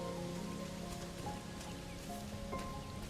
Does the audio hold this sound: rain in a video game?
yes